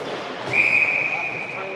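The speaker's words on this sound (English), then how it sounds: "Gonna have a whistle." A referee's whistle shrills at an under-13 hockey tournament semi-final game, one sustained blast of about three-quarters of a second that stands clear over arena crowd noise and nearby chatter.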